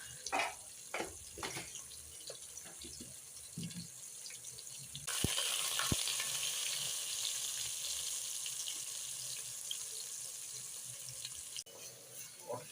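Onions sizzle steadily in a hot pan, a bright crackling hiss that swells louder midway with a couple of sharp clicks, no voices.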